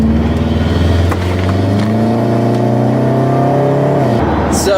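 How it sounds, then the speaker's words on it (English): A Subaru with a freshly replaced exhaust donut gasket drives steadily, its engine hum loud and close with a smooth, even drone that rises slightly in pitch under light acceleration, no voices. "So the car is running great after changing out the donut gasket."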